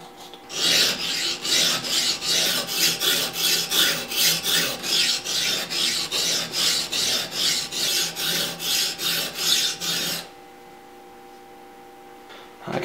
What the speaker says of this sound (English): I'm actually going to switch from the 400 grit stone down to the 220